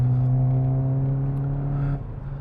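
Hyundai i20N hot hatch engine holding a steady, close, droning rev with a strong low hum, then easing off and settling near the end.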